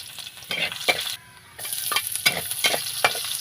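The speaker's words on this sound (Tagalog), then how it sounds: "Sunod ay magigisa na tayo. Ngayon natin yung bawang." Sliced garlic sautéing in a pan for pork menudo, a crackling sizzle broken by repeated stirring scrapes and a brief drop to near quiet, heard up close at a moderate level.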